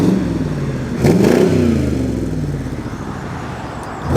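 Shelby Cobra replica with a hardtop revs its engine at a classic car show and road run, a loud burst of acceleration that rises then fades as it pulls away.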